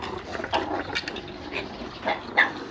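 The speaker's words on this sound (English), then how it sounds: "Why do they keep barking? That's actually an alarm call" Zoo animals give several scattered, short barking alarm calls at moderate distance over a steady background murmur.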